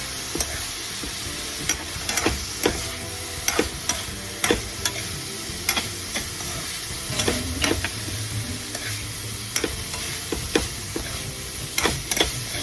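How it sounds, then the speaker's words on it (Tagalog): Beef goes into a hot pan for beef broccoli with mushroom and pak choi and is stirred, with a constant sizzle broken by repeated sharp scraping strokes of the spatula. "Ilalagay na natin ang beef."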